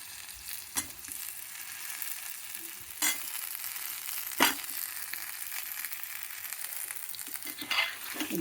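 Taro root pieces fry in a pan with ginger and garlic, making a soft, steady sizzle broken by a few sharp stirring scrapes and clatters.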